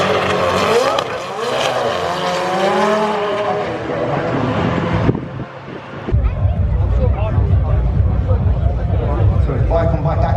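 A McLaren 720S drag races a Jeep at a big UK car meet: loud rising and falling engine revs, then a sudden cut and a louder roaring pass against crowd noise.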